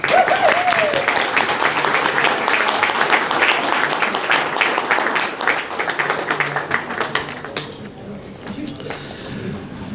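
An audience at a Southwestern College Hall of Fame induction ceremony applauds inductees with dense, sustained clapping that fills the room, a voice briefly audible at the start before the applause fades slightly.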